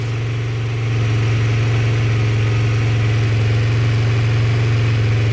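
A Honda CB150R motorcycle engine with a weak, quickly draining battery is held at high revs, a loud steady drone that rises slightly early on and then sustains evenly, alone without talk.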